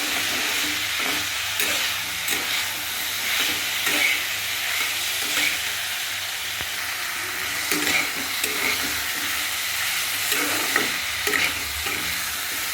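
A vegetarian Bengali dish being sautéed and stirred in a pan, a steady loud sizzle and frying hiss with repeated spatula scrapes throughout, close and continuous with no talking.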